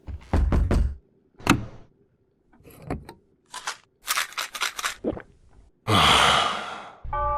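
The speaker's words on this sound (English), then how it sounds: "A sense of panic does come in every now and then when you hear the door knocking" Repeated knocking on a door in a VR horror video game, a quick cluster of sharp raps near the start and another lone knock after, with scattered thuds, rustling and a loud hissing burst toward the end.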